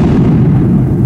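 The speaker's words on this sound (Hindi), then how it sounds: "दिवाली के पटाखे फट रहे हैं।" Diwali firecrackers bursting, a dense loud low-pitched rumble of distant blasts that runs continuously through the moment, with no talk over it.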